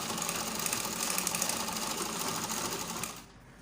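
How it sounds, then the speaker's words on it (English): A sewing machine stitches a gathered seam on a baby girl's turtleneck gown, running in a steady, continuous close-up whir for about three seconds before stopping abruptly. "So you sew your gather now."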